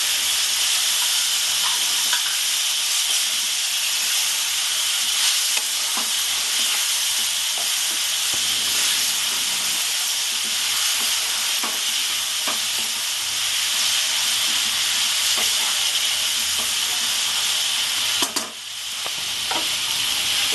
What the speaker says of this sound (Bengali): আমি একটু কষতে থাকবো পেঁয়াজ আলু এক মতো কষতে থাকবো